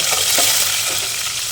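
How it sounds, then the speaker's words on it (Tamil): Garlic, cumin and lentils crackle and sizzle in hot oil for a potato and cabbage poriyal, a steady, close, dense hiss with a few soft stirring scrapes and no voices. "இதான் பூண்டு போட்டுக்கலாம். நல்லா பொரிஞ்சு வருது."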